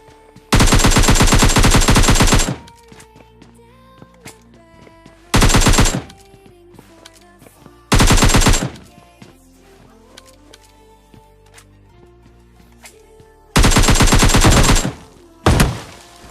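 AK rifle gunfire in the mobile game PUBG Mobile Lite, loud sustained automatic bursts repeated several times with quiet game ambience between them.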